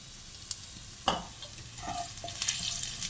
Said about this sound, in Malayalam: അപ്പോൾ ഞാൻ ഒരു വെച്ചിന് പച്ചമുളക് ഇട്ട് വഴറ്റി